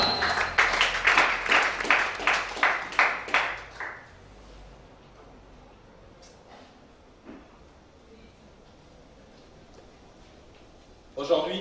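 A church congregation claps in steady, rhythmic unison for about four seconds, loud and close, then falls away into a quieter room murmur with a few faint knocks.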